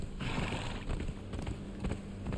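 Hooves of a ridden horse in Conan Exiles, a soft, steady clip-clop rhythm of hoofbeats at low volume, continuing throughout without talk.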